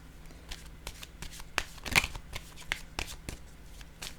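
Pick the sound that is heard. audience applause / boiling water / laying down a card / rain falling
laying down a card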